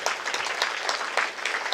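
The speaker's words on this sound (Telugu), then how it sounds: "సో ఒకసారి రాము గారికి మనం అలా చప్పట్లు కొడదాము." An audience at a motivational talk applauding a guest, a moderate, even patter of many hands, with slight pulses of louder claps.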